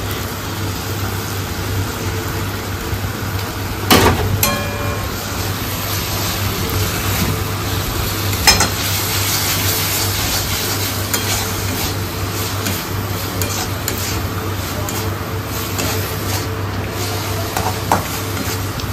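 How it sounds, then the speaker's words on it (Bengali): Onions and pre-fried potatoes sizzle steadily in a pan while a utensil stirs them, with occasional louder scrapes and clinks against the pan over roughly twenty seconds and no talking. "পেঁয়াজটা ভালো করে কষানো হয়ে গেছে, এখন আগে থেকে ভেজে রাখা আলুগুলো দিয়ে দিচ্ছে।"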